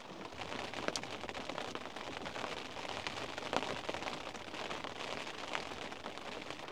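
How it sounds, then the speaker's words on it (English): Steady rain patters on a tent during a wild camping night, a dense continuous hiss with scattered louder drops striking the fabric close by, no voices present. "just listen to that rain all night"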